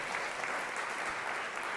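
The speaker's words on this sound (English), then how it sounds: "clap it up for Miss Bernice" An audience at a spoken performance claps in warm, steady applause, a dense continuous patter of many hands heard alone at moderate level.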